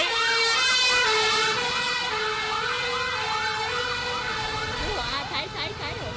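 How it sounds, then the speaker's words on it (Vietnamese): A fire truck siren wails repeatedly while passing through congested traffic in Malaysia, loud and near over the rumble of vehicles, with voices talking faintly beneath it. "Cái đường giữa bên đấy xe cứu hỏa đi qua ấy."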